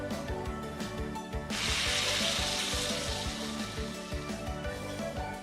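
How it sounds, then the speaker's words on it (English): Kalbi beef sizzling on a grill in the video game Judgement, a steady, bright frying hiss that swells after the first second and continues evenly throughout. "It's making the sound of sizzling as we're eating it."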